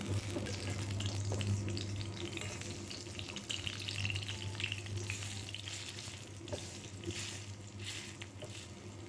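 Fish roe fritters (bora) frying in hot oil give off a steady, dense sizzle that runs without a break, with a low electrical hum beneath it and no voices.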